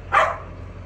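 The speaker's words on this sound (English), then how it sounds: "He's just barking at guns." A dog gives a single short bark, fairly close and clear, over a low steady background hum on a farm.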